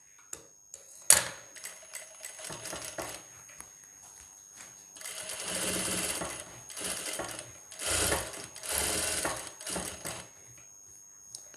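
A sewing machine stitches a designer blouse in several bursts of rapid mechanical clatter, each run lasting a second or two and separated by short pauses, heard close up with small clicks of handling between them.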